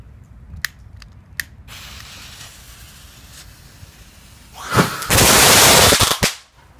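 A homemade firework goes off outdoors in daylight, starting with a few sharp snaps and clicks and then a loud, sustained hissing spray that lasts about two seconds before cutting out.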